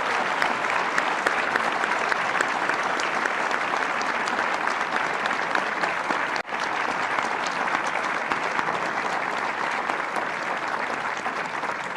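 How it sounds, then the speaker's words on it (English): An audience claps for the speakers after a debate, a steady, dense round of applause that holds evenly for about twelve seconds with no talk over it. "Can we hear another round of applause for our speakers"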